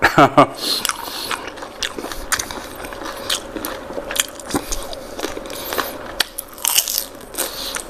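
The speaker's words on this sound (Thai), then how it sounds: "หัวกุ้งกรอบมาก" Crispy fried shrimp heads being crunched and bitten in close-up, irregular loud crackling bites amid a busy clattering background, with some talk underneath.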